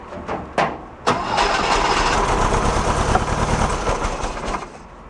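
A 1969 VW Fastback that has sat for 19 years cranks hard on its starter, with a few brief stabs followed by a long steady grinding churn, close and loud.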